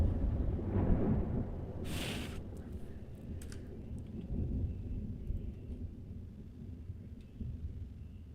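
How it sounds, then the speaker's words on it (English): Low, rolling thunder rumbles through a stormy backdrop, swelling near the start and again midway, steady and fairly loud with no talking over it. "You can hear the thunder, guys."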